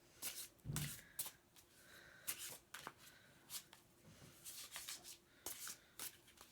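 A new tarot deck with stiff, glossy cards being shuffled up close, giving quiet, uneven bursts of riffling and rubbing that come in short spurts with small pauses between them.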